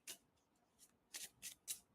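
Tarot cards being shuffled by hand: five quick papery riffling bursts, soft and close, with brief pauses between them and no talking.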